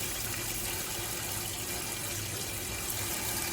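Hot water runs steadily from a tap in a Dethleffs Globetrotter motorhome, a faint continuous hiss and trickle with no talk over it.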